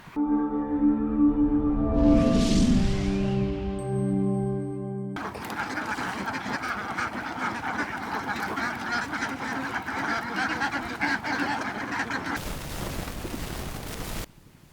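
Ducks kept on a two-storey farm built over haor wetland water in rural Bangladesh quack and honk, a dense nearby flock sound at first, then fading into a steady noisy outdoor wash.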